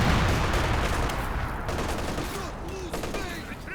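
Dense gunfire and explosions crackle through a Company of Heroes 2 World War II battle, with rapid overlapping shots and machine-gun bursts throughout and a commentator's voice faintly under the din.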